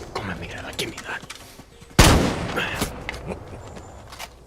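Firing squad volley in the Far Cry 6 video game: one sharp, loud gunshot blast with a lingering echo, cutting through a commanding voice just before it and quieter talk that follows.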